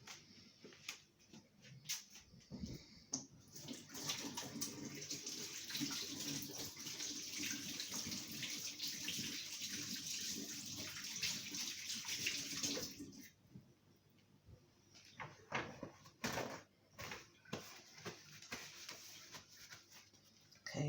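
Hands being washed under a running kitchen tap before seasoning lamb, a steady close splash of flowing water for about thirteen seconds, then it stops, leaving scattered drips and handling sounds.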